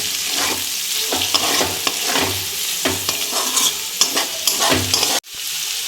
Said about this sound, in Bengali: এটা দিয়ে আমি একটু ভেজে নেব